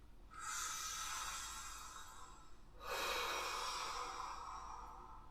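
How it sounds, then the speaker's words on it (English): Deep breathing exercise with two long, loud, airy breaths close to the microphone, the second stronger and rougher, with no talking. "Deep breathing."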